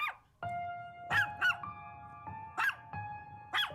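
Small dogs bark inside a house in a handful of sharp, separate bursts spread irregularly over a few seconds, with a faint steady tone running underneath.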